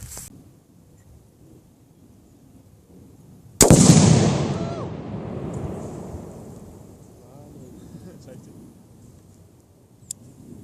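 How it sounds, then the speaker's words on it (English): A half pound of Tannerite detonates outdoors beneath a golf ball: a single sudden, loud blast after a few seconds of quiet, followed by a long rolling rumble that slowly fades, with a faint sharp pop near the end. "1/2 pound of Tannerite with a golf ball on top of it"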